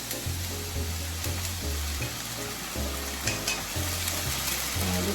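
Fresh ground chili goes into a sizzling beef and asparagus stir-fry, with steady loud frying hiss and rhythmic scraping stir strokes throughout.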